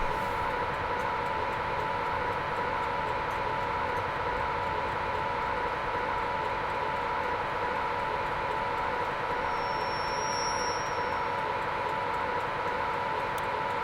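A train in Train Simulator 2021, on a Carlisle to Edinburgh via Glasgow route, rumbles steadily as it brakes to a stop, with a sustained mechanical hum and a brief high whine partway through.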